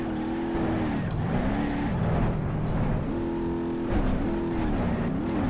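A Burnside Special car engine in a BeamNG drag race drones loudly and steadily, its pitch climbing and dropping through gear changes over several seconds.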